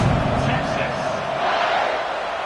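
Steady roar of a football stadium crowd at a Kentucky versus Texas game before a kickoff, a dense continuous wall of cheering and shouting that holds loud throughout.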